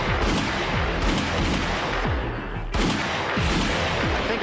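Gunshots fired into a body armor vest during a test: dense, loud bursts of gunfire repeat across the whole stretch, with a short dip in the middle before the shooting resumes.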